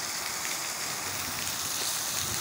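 Heavy village rain beats down hard on the ground and plants, a constant close hiss of falling drops that stays level throughout with no talk.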